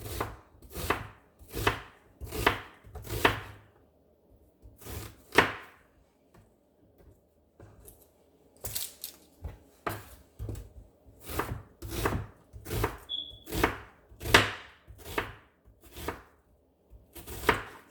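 A knife cuts an onion lengthwise on a board, making sharp, close chops in quick bursts of three or four with short pauses between, no voices.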